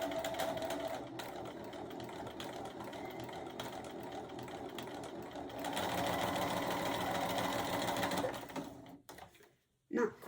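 A sewing machine stitches a quilted mug rug, running in a steady mechanical whir that speeds up and grows louder partway through before stopping near the end, with a voice speaking over it.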